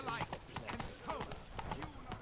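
Roach the horse in Witcher 3, hooves clip-clopping in a quick steady rhythm close by, heard under a man's speech.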